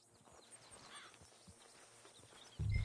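Horse hooves clip-clop at a slow walking pace in the video game Red Dead Redemption 2, soft and fairly close under ambient game sound, followed by a sudden loud low thump at the end.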